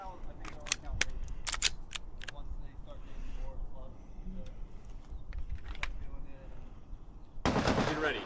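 Pistol and rifle gunfire at a two-gun match stage at an outdoor range, a rapid string of sharp cracks early on, then quieter activity and a dense loud burst near the end, heard alongside speech.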